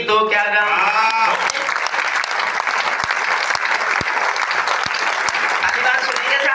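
Loud, sustained applause from an audience at a poetry recital by a poet, dense clapping filling the hall for several seconds, with a voice briefly audible at the start.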